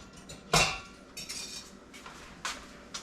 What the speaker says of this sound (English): let me get a whisk to mash that up a little bit